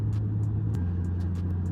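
Car fitted with Magnaflow mufflers cruising, a low steady exhaust drone from inside the cabin, with a slight pitch shift partway through.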